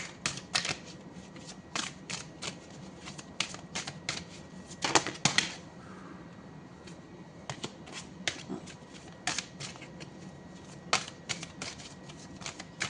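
Tarot cards being shuffled and drawn nearby, a steady run of crisp flicks, slaps and riffles with short bursts of busier shuffling in between.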